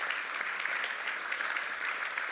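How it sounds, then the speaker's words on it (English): Audience applause fills a conference room at a patient-oriented research panel, steady and dense throughout with scattered individual claps, no voices. "Round of applause for you to being involved"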